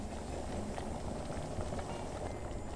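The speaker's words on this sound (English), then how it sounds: "Blanch the bean sprout in a boiling hot water for 1 minute." Bean sprouts, about 200 grams, blanching in a pot of boiling hot water: a steady, dense bubbling roil that holds at an even level throughout, close by and with no voices.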